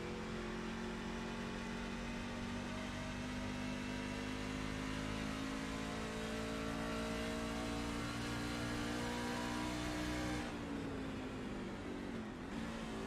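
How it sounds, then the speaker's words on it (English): A racing truck's engine drones at a steady mid pitch in a speedway video game, then the tone drops sharply as it downshifts from fourth to third gear near the end, fairly faint and with no talk. "There's the downshift to 3rd"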